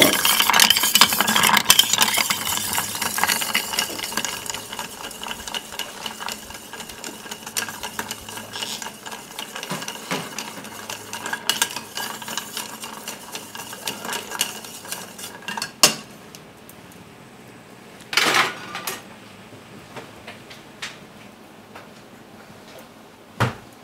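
Ice is stirred in a glass while mixing a De la Louisiane cocktail, giving a continuous swirling clink. It fades gradually, followed by a few isolated knocks and clinks, close and quiet.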